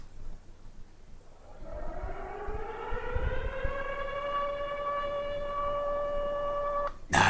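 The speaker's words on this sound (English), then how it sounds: "gotta get our sound effects." A civil defense tornado siren sound effect winds up from a low growl into a steady rising wail, loud and alone, holding its tone for several seconds before cutting off abruptly.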